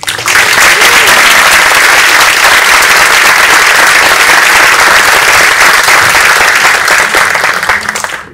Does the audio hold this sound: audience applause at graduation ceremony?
yes